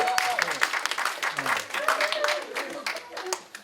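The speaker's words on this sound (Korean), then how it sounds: "우리 헬라어 교수님한테 잘해야 돼. 박수, 박수." An audience at a church semester-opening gathering claps in uneven, crackling bursts while voices talk and call out over the applause.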